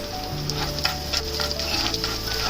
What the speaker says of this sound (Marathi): तेल आता छान तापलं आहे लसूण टाकून त्याला आता तळून घेते